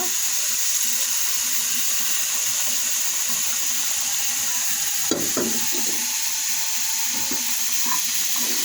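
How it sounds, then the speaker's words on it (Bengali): A cup of milk poured into melted sugar in a pan while making semolina barfi gives a steady, close hiss and sizzle throughout, with one brief clink midway and no talking. "চিনিটা ভালো করে গলার পর এখন দিয়ে দেব এক কাপ পরিমাপ দুধ"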